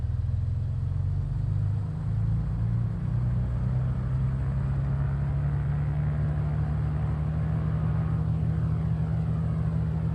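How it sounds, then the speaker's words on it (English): A Mooney M20R's piston engine throttles up to about 1800 RPM before takeoff, a loud, steady, low propeller drone that holds continuous throughout with a slight rise in pitch. "We'll throttle up 1800 RPM or so."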